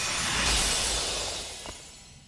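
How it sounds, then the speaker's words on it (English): Glass breaks in the video game The Legend of Zelda: Echoes of Wisdom, a loud, bright crash that spreads and fades away over a couple of seconds with no talking. "Break that glass!"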